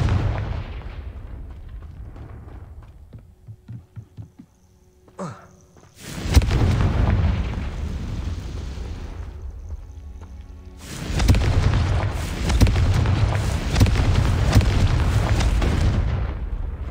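Fiery Confringo spell blasts in Hogwarts Legacy on PC: a few soft clicks, then two big, loud explosions, each a sudden booming burst that rolls on into a long rumbling tail.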